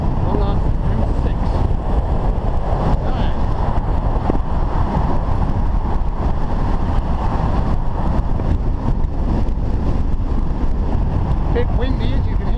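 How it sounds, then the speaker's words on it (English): Strong, constant wind buffets the microphone while travelling beside the M6 north of Carlisle toward Gretna Green, a loud low roar that fills the whole stretch without letting up. "Bit windy, as you can hear,"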